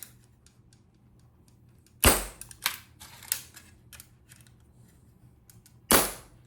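Two sharp mechanical clacks of an empty Red Ryder BB gun's cocking lever a few seconds apart, with softer clicks and handling noise between them, close and fairly quiet.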